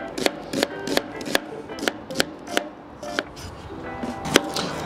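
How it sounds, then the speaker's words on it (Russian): A knife chops onion into large half-rings on a board while steaks are prepped for pan-fried potatoes with pork, a crisp cut landing roughly every half second, close and clear with no talk. "возьму много лука и порежу крупными полукольцами"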